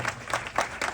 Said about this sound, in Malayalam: നല്ല കിണ്ണം കാച്ചി ഒരു കയ്യടി തന്നത് എല്ലാവരും